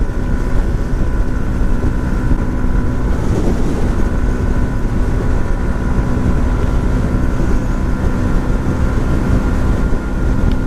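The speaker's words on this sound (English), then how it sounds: "I can hear the engine a lot more than I can hear the exhaust." A 2018 Yamaha MT 125 motorcycle cruising on a highway, its engine screaming at a steady high pitch under constant rushing wind, loud and unbroken.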